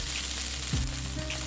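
Chicken noodles stir-fried over a high flame, stirred with chopsticks, giving a steady soft sizzle with a brief scraping stir partway through, fairly quiet and close.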